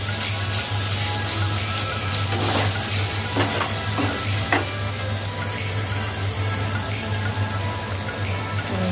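Prawns frying in a pan with poppy seed and mustard, giving a continuous loud close sizzle with scattered crackles and stirring scrapes, over a steady low hum and with no talking.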